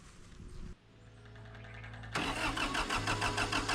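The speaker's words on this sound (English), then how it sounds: "So I'll get the tractor fired up" A Kubota B2150 compact tractor with nearly 3,000 hours cranks briefly, then its diesel engine catches and settles into a loud, steady rumbling idle close by.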